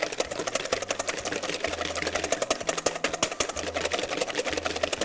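Egg whites and sugar being whisked together until frothy for pistachio macaroons: a rapid, steady clattering whir up close that runs through the whole stretch, with no talking.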